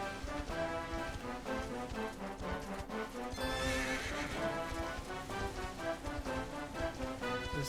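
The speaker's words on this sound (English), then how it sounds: "Is this horse just slow?" A horse in Dragon Quest XI gallops with a quick, steady clip-clop of hooves and lets out a clear whinny partway through, the game's music and ambience running underneath.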